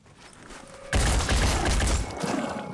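Dense, loud gunfire from the video game Blood and Titanium, a sustained volley of rapid shots that erupts abruptly after a quieter lead-in and rattles on to the end.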